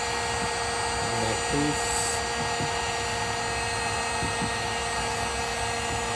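A heat gun blowing hot air onto a new aftermarket plastic car bumper to smooth a crease, a steady airy whir throughout, with a person talking briefly over it.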